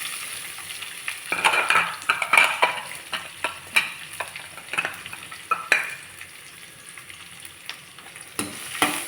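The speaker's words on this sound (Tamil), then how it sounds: "இப்போ நல்லா வெங்காயம் வதங்கட்டும்." Finely chopped small onions sizzle in hot oil with fried curry leaves while a spoon scrapes and stirs the pan, a steady sizzle broken by repeated clinks and scrapes up close.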